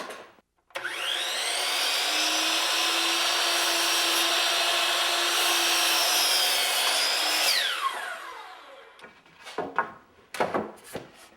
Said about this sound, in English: I'll cut this off in the miter saw real quick